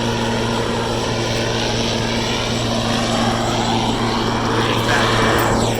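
Steady, loud engine drone with strong low hum and broadband roar, continuous throughout, from a propeller airplane running close by at Philadelphia International Airport.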